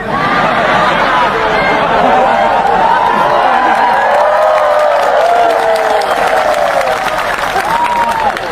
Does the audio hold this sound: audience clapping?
yes